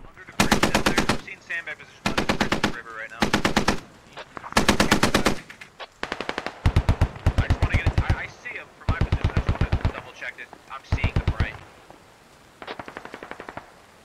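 Machine gun fire in the military video game SquadOps comes in repeated sharp bursts of rapid shots, loud and close, separated by short gaps, with voices talking between some of the volleys.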